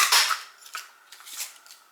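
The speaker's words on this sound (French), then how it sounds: "vous allez couper un morceau de papier pour y mettre votre sentiment" Scissors cutting a piece of paper in a papercraft session: a few quick, crisp snips and rustles, close and fairly clear, with no talking.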